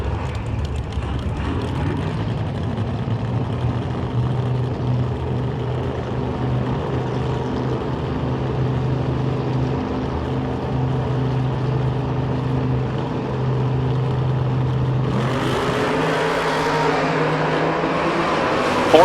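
A low-flying Ford Mustang door-car drag racer drones steadily and loudly for a long stretch, with a brighter, higher engine roar rising near the end.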